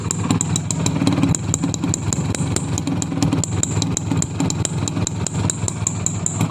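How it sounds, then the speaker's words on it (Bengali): A Honda H100 CDI motorcycle engine idles through its silencer pipe, a close, steady rapid putter with sharp regular ticking clatter throughout. "একদম ফুল ফ্রেশ সাউন্ড, যেটা অরিজিনাল ইঞ্জিন থেকে বাইর হয় সেই সাউন্ডটাই এখনও ইঞ্জিনে আছে"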